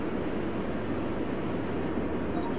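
An airliner jet engine roars at takeoff in the air traffic control game Tower! 2011 at Frankfurt, a loud steady broadband rush with no voices.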